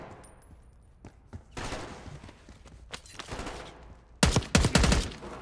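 Bursts of gunfire in the Call of Duty Black Ops 6 campaign, scattered single shots early, then sustained volleys and a loud close-range rapid burst near the end, with no talk.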